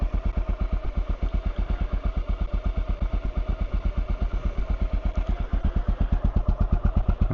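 A Honda XR650L single-cylinder motorcycle engine idles steadily up close, its even thumping firing pulses repeating rapidly and loudly throughout with no other sounds.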